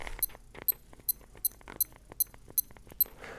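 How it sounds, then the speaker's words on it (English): A series of about eight short, high-pitched beeps from a Casio Wave Ceptor WVA-M630D-7A2JF digital watch at irregular intervals, with soft clicks of button presses in between. "So it's going to make that little beep every time I press a button"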